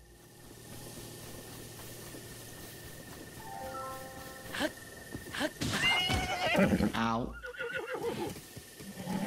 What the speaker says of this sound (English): Is that a giant horse or is that just a horse?